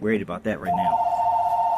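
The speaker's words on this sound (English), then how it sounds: "Excuse the phone." A mobile phone rings with a steady electronic tone that starts midway and continues to the end, sounding under and after a man's speech.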